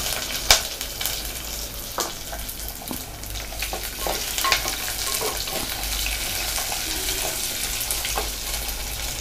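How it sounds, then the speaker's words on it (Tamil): Fennel and fenugreek tempering in oil with onion and curry leaves for a fish curry, a dense steady sizzle with scattered crackles and stirring clinks up close. "சோம்பு, வெந்தயம் இதை வந்து நல்லா நம்ம தாளித்து விட்டுக்கலாம்"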